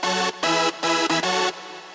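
FL Studio synth chord preset Chords Heady Chords from the Fruity Masters bank, bright sustained synth chords in four short blocks with brief gaps, for a hardstyle melody, with a soft tail at the end; no talking.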